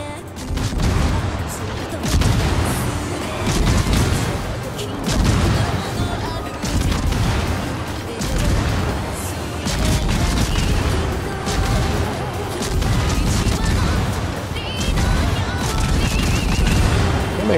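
Heavy naval gunfire in the World of Warships game during a clan battle, with dense, continuous booming salvos and crashing shell impacts rolling throughout, loud and close, under occasional voices talking.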